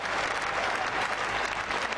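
A large Adelaide stadium crowd applauds and cheers a goal in an Australian football match between the Adelaide Crows and West Coast Eagles, a steady dense roar of clapping throughout.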